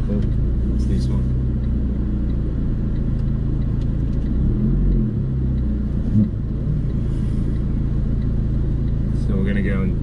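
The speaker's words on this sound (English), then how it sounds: "we're just going to go for a run in the Fiat Abarth to see." A Fiat Abarth 695 Tributo Ferrari drives along with a steady, loud engine drone and low road rumble heard from inside, the pitch dipping briefly mid-way, while people talk over it.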